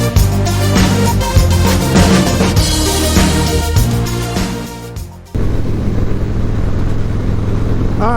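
A Harley-Davidson Dyna motorcycle engine rumbles loud and close while riding, with a strong low steady drone and tonal harmonics that shift as it changes pace, then a sudden drop to a plainer roaring drone.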